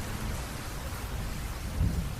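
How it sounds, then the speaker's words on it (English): A thunderstorm rumbles outside with a low, continuous roll of thunder and steady rain noise, swelling into a heavier rumble near the end, and no voices are heard. "Looks like another storm is starting outside."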